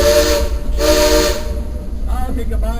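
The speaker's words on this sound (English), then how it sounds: "Hey Ichabod, we need 3 toots on that whistle," A steam locomotive whistle on a heritage line on the Fourth of July blows two loud, close toots in succession over steady hissing steam and train rumble.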